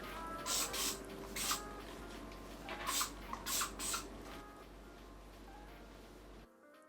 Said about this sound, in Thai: แก้มจะฉีดสเปรย์อัดเขานิดนึงนะ